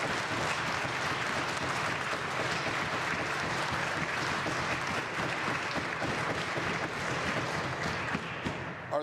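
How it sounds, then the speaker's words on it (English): Members of the Legislative Assembly of Alberta clap together in the chamber. Dense, loud applause continues without a break for several seconds and cuts off abruptly at the very end. "I was hoping in the spirit of Christmas we could all clap loud enough that maybe she could hear us."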